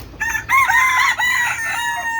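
A rooster among a flock of native backyard chickens crows loudly and close by in one long drawn-out call, with no one speaking.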